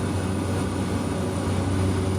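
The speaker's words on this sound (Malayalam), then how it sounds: "ഓട്ടോ പൈലറ്റ് സംവിധാനമുള്ള വിമാനമാണ് ഇത്." A small passenger airplane with autopilot cruises over the outskirts of Dar es Salaam, Tanzania, as heard from inside the cabin: a steady, loud, unbroken engine drone with no variation.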